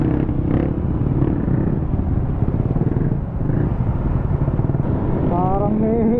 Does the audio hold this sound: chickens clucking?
no